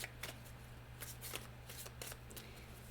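Tarot cards being shuffled for a reading: a run of soft, papery riffles and slaps in quick irregular bursts, close and fairly quiet over a steady low background hum, with no talking.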